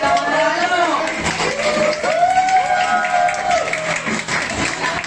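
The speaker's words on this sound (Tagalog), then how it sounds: "Malakas ang palakpak." An audience gives loud applause at a FLAVOMIX product presentation in Vigan, the steady clapping running continuously beneath a speaking voice and background music.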